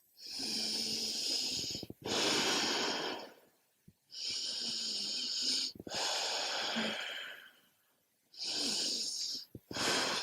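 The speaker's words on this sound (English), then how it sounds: "3 rounds of Ujjayi breath." Slow, audible Ujjayi breaths during an Ashtanga yoga practice, three long hissing, throaty inhale-exhale cycles separated by brief pauses, close and fairly loud with no talking.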